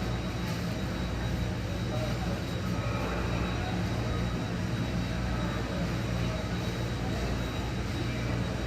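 An airliner's engines rumble in a flight simulator game, a steady broadband roar that carries on evenly throughout while someone talks over it.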